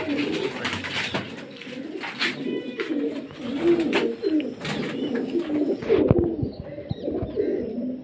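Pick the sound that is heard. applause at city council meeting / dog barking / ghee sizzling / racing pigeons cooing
racing pigeons cooing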